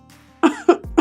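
A woman fakes a cough in a Hindi audiobook drama, three short, close coughs in quick succession after a brief quiet lead-in.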